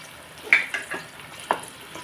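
A spoon stirs fish curry with raw mango in a frying pan, producing a few soft, brief scraping and sizzling strokes close up, spaced irregularly over a quiet hiss.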